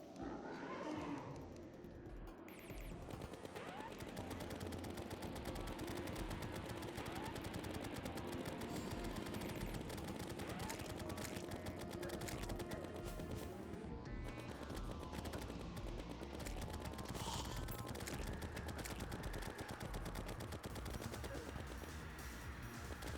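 A gun in Terraria fires in a long, rapid, continuous stream of shots, a steady rattling barrage that runs with barely a pause, dipping briefly near the middle before carrying on.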